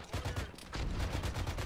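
Gunshots from military weapons in the tactical shooter game Arma, a rapid string of sharp cracks that runs through the whole moment at a steady loud level.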